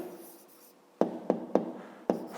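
Pen writing an answer by hand on paper, four sharp strokes and taps in an uneven rhythm, close and clear after a quiet opening.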